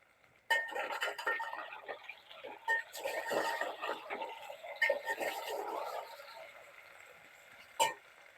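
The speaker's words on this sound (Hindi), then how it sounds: "सबसे पहले हम अरबियों को अच्छे तरीके से करेंगे फ्राई, और इसे हम तेज़ फ्लेम पे करेंगे।" Taro root (arvi) pieces frying in oil in a pan over high flame, a bright crackling sizzle with scattered clicks of a spoon against the pan, moderately close.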